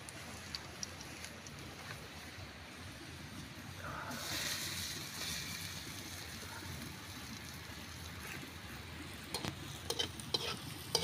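Seaweed and egg fry in a pan and are stirred, a faint, steady crackling sizzle with a brief louder rush in the middle and a few scraping knocks toward the end.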